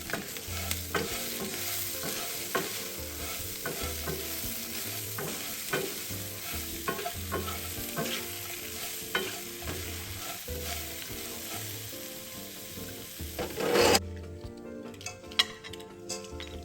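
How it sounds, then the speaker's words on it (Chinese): Chicken stir-frying in a wok for spicy Szechuan la zi ji with sesame seeds and scallions, a continuous sizzle with rhythmic scraping and stirring strokes of a spatula, ending with a louder clatter and then near quiet. "起锅前撒上一点炒香白芝麻，最后撒入青葱段，快速拌匀，"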